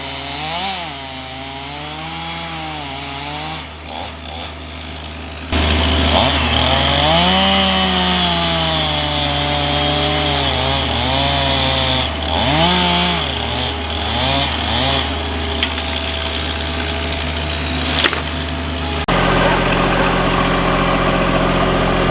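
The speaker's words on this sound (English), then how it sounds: "the other guy was using the chainsaw on the other side" A chainsaw felling trees drones continuously, its engine pitch rising and falling as it revs and bogs while cutting, close and loud, then dropping to a lower idle.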